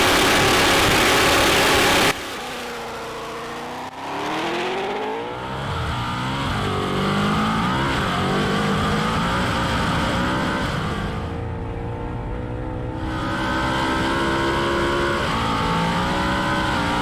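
Engine of a 2024 Ford car with a dual-clutch transmission revving and struggling, rising and falling harmonic engine tones with uneven shifts, close and loud, with no talk over it.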